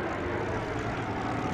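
A Percival Jet Provost T5 jet trainer flies at a vintage airshow, giving a steady, moderately loud engine roar with no speech over it.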